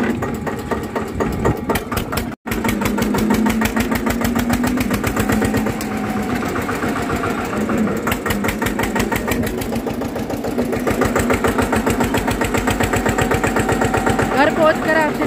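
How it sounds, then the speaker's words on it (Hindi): A tractor engine idles steadily and loudly nearby in a village yard, a continuous rhythmic chug with a brief cut near the start; someone talks over it at times. "यहाँ पर आदि देखो आ लिया रीटला सा ट्रैक्टर, यहाँ पार्क कर दिया है"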